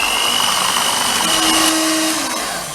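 An electric mixer whirs loudly and steadily at close range, beating eggs with sugar and vanilla for a basbousa cake batter, its motor pitch dipping slightly near the end.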